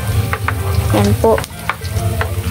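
Garlic sizzles and fries in a pan while it is stirred, a steady close crackle with brief speech over it.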